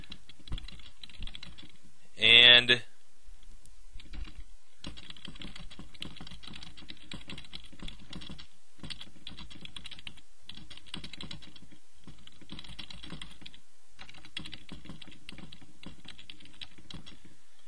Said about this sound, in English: I can start typing my story